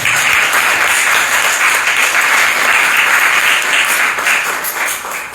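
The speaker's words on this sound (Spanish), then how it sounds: "Aplauso, por favor." Loud, sustained applause from a crowd, a dense, steady wash of clapping that carries on evenly from start to finish.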